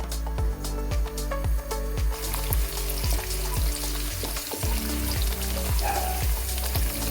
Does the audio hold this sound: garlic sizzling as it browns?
yes